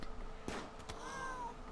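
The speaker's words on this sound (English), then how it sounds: "That cat just wanders out." A cat in the video game Rimworld gives a single short meow, moderately close and clear, accompanied by a couple of brief game sound effects.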